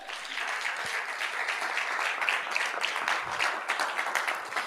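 A church congregation bursts into steady applause in praise of the Lord, a dense, continuous wash of many hands clapping that holds evenly for several seconds without any speech.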